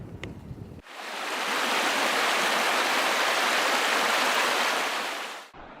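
Rushing river waterfall at Chute-aux-Rats in Tremblant national park, a steady broadband roar of falling water that swells in after a moment and holds loud and unbroken before cutting off near the end.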